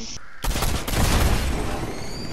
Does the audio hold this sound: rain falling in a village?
no